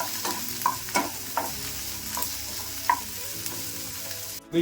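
Onions, garlic and chopped green chillies fry in oil in a pan, a soft continuous sizzle punctuated by regular spoon scrapes and knocks against the pan, close, with no talking.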